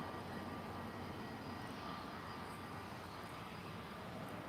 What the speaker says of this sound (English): Express Staff Air Portugal Embraer aircraft landing into this one.